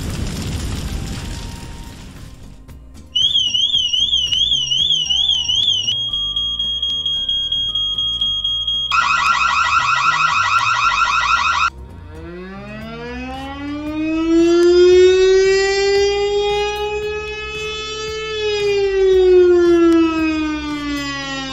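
Alarm tones from an Amazon Echo Alarm Sounds skill fire drill: a burst of noise, then a warbling two-tone beep, a rapid buzzing alarm, and finally a loud rising and falling siren wail, all played alone with no talk.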